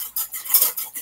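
Quick whisking in a bowl for French toast: a short burst of rapid metallic clicks and scrapes of the whisk against the bowl, close and fairly loud, no talk.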